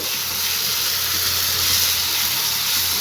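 Onion-tomato masala for an egg gravy fries in oil in a pan, giving a dense, continuous hissing sizzle. The sound is close and steady throughout, with no talking.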